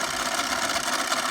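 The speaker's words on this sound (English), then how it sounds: "you can still see the steam engine working" An S1 Energy model steam engine runs steadily, turning a wheel, giving a continuous busy mechanical whir with a fine rapid chatter, close and even throughout with no pauses.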